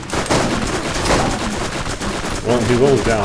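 Gunfire from the video game Borderlands crackles in dense, continuous bursts while someone talks over it during a co-op fight against scorpion creatures.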